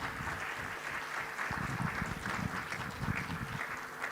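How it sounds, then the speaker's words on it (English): A forum audience in Djibouti gives a steady round of applause, a dense, even patter of many hands that holds throughout at moderate loudness. "I think we deserve a round of applause"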